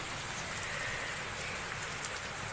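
Heavy rain pours steadily, growing stronger, a dense and even hiss of drops striking surfaces that continues without a break and with no voices.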